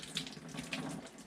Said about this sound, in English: We should hear it start to call for hot water when we turn the sink on here.